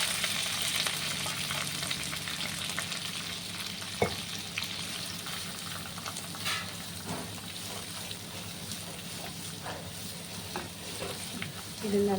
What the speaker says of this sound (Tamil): இப்போ வெங்காயமும் கருவேப்பிலையும் ஆட் பண்ணிக்கலாம்.